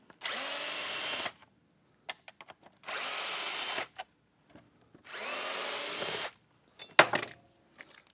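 Cordless power drill backing screws out of the body and starter recoil housing of a Husqvarna leaf blower, three steady whirring runs of about a second each separated by pauses and small clicks, close and loud.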